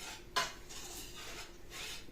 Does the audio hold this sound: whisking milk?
yes